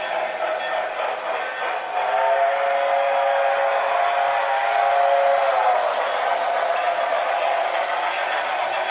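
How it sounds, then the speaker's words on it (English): A Lionel Railsound boxcar plays a steam-style train whistle with a low rumble of running train sounds beneath it, and the sustained whistle tone swells partway through before fading back into the steady background rumble. "But let's try the whistle."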